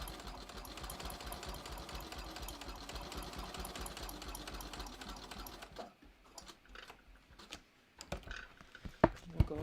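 A sewing machine stitches a pocket onto a clear vinyl project bag in a fast, close, even run of needle strokes, then stops partway through, leaving a few soft clicks and handling noises.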